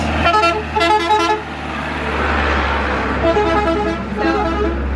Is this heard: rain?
no